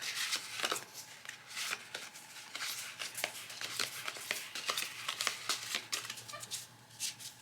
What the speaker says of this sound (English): Shuffle the Traveler deck face down